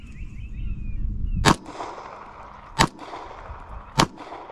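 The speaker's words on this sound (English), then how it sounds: "So we're gonna take 3 shots and then we'll go check out the armor." Three sharp pistol shots from a Springfield Armory Prodigy, fired at concealable body armor from about seven yards, crack out loud and close at uneven intervals over a low background rumble.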